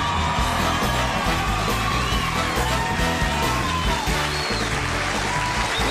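Loud audience applause mixed with whoops, cheers and shouts at a children's show, sustained crowd noise with steady clapping throughout, a voice calling out over it.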